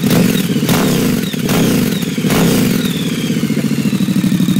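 A Triumph Scrambler 1200 with a Vance and Hines two-into-one full exhaust rumbles loudly and close, with a deep, throbby bark and a few blips in engine speed over a steady low pulse.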